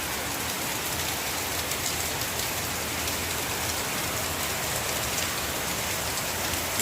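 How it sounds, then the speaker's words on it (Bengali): Heavy rain pours down in a dense, steady roar of drops striking surfaces, loud and unbroken from start to finish, with no voices or other sounds standing out. "এখন মুষলধারে বৃষ্টি সেই ভোরবেলা থেকে হচ্ছে আজকে।"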